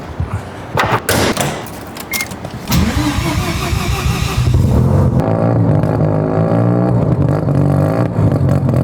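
A 1000whp Corvette, just back from a boost leak test, fires up outdoors with a loud starting burst and settles into a steady, rough, throbbing idle close by.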